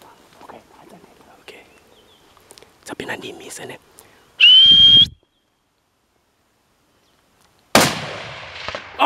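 A single loud, sharp rifle shot rings out during a kudu hunt with hounds in the Eastern Cape, preceded by quiet whispering and followed by a second loud burst of noise.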